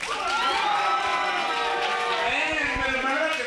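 Wrestling crowd at a CM Punk versus Chris Hero tables and ladders match, a dense roar of cheering and shouting voices held at a steady loud level.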